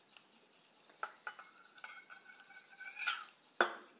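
Aloe vera face cream for sensitive skin being stirred in a bowl, giving light scraping and clinking strokes, with a sharper knock near the end, close and fairly quiet with no talking.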